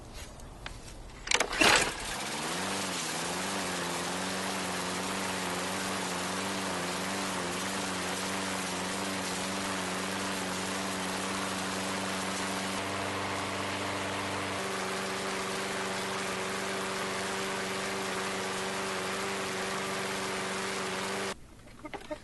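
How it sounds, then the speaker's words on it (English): A lawn mower engine sputters to life after a few pulls, then runs steadily at a loud, droning idle for about twenty seconds before cutting out as its fuel runs dry. "we can no longer start the mower, which means the engine has run dry"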